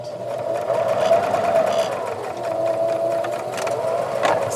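A sewing machine stitches a zipper pouch with a close, loud, continuous motor whir and rapid needle chatter, running without a break.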